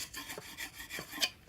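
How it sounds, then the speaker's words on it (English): Close chisel scraping as waste is cleared from hand-cut through dovetails in wood: a run of short rasping strokes in an uneven rhythm, with a sharper scrape near the end and no talking. "I'll just use the chisel to clear those things off."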